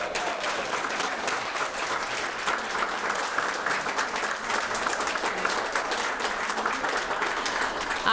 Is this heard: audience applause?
yes